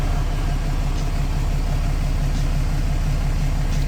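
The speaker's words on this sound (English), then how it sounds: "I'm gonna let it idle for a minute," A 2015 Ram 2500 with the 6.7 Cummins diesel idles with a steady, close, low rumbling drone that stays constant throughout.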